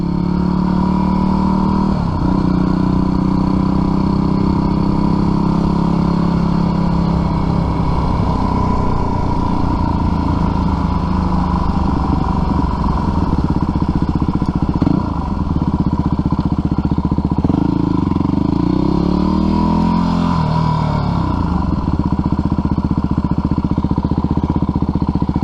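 A gang of scooters rides past on city streets in Minneapolis, a continuous loud engine drone with revving swells and clattering, heard up close over the whole stretch.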